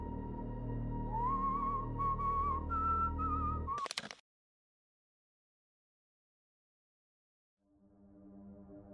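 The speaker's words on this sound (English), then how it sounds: "He whispers with a whistle." A clear, tuneful human whistle rises and wavers over a low droning background, then cuts off with a sharp noise burst, leaving silence before faint sound returns.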